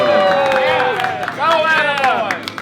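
Audience at a Chonda Pierce comedy show cheering and clapping, loud and steady, with excited voices and whoops rising through the crowd noise.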